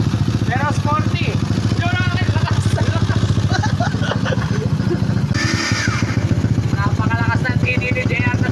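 A motorcycle engine runs close by with a loud, steady chugging throb throughout, while people talk and exclaim over it.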